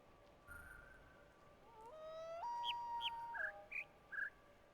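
Bird calls come faintly from speakers in the video game The Witness: a few sliding whistled notes and a steady held tone, followed by short chirps. They play quietly over a low background hiss.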